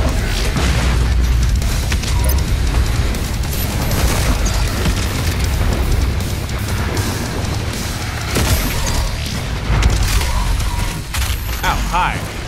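The BFG 10,000 fires in the Doom Eternal video game, a dense, continuous roar of booming blasts and mechanical bursts, loud throughout, with a voice talking over it.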